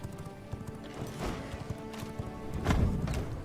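A horse gallops in V Rising, quick hoofbeats drumming steadily and swelling louder near the end, with faint game ambience and no clear talk.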